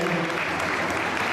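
Sustained applause from an audience at a federation gathering in Paris, a dense, steady wash of clapping with no breaks.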